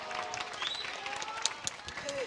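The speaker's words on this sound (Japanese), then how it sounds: "今一度大きな拍手をお願いします。" An audience at the Kawaguchi Auto Race applauds during a post-race ceremony, a soft, distant wash of scattered clapping and crowd murmur with a few sharper claps standing out.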